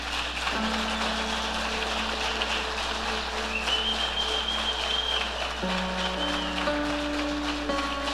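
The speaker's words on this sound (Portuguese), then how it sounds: "dar uma salva de palmas para Jesus?" A church congregation applauds, steady sustained clapping from a crowd under lingering held organ or keyboard chords that change partway through, with no speech.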